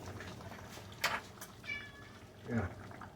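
A house cat meows a couple of times in a home kitchen, faint and short, mixed with light background noise and a brief bit of talking.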